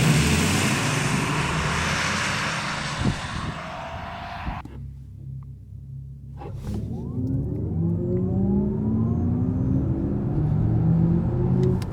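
An Audi e-tron GT electric car launches hard in boost mode, its rising electric motor whine climbing over road and wind roar, then dropping away before sweeping upward again, loud and steady, no talk.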